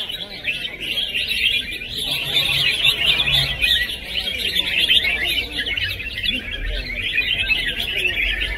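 Red-whiskered bulbuls sing at a bird-singing competition, a dense, steady stream of bright chirps and warbling trills carrying on without a break, loud and close, with a low hum of background noise underneath.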